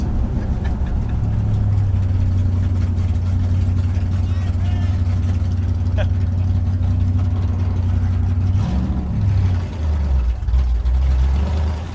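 A 1962 Dodge Dart's 413 Max Wedge engine rumbles loudly and steadily with a deep exhaust drone, then the tone shifts near the end as it revs in first gear.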